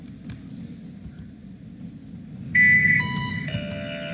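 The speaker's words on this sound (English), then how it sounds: "there's the alarm for this episode's Nerd Alert" Electronic alarm sound effect marking a Nerd Alert segment in a Planetbase gameplay commentary, a loud burst of stacked synthetic tones starting partway through and holding steadily to the end after a quiet stretch with a brief click.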